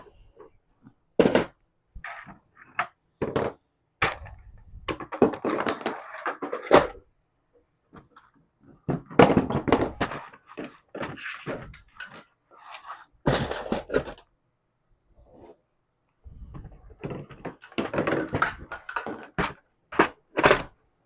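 Objects drop one after another into a bin under a freshly finished 3D-printing setup, giving a string of sharp clattering knocks and rattles in irregular bursts, separated by short silences, close and fairly loud.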